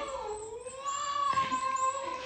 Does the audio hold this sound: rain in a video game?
no